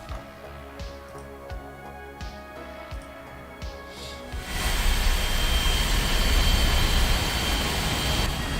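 An F-4 Phantom in the video game War Thunder, first a steady jet whine with rhythmic clicks, then a sudden surge into a loud, broad engine roar that holds steady.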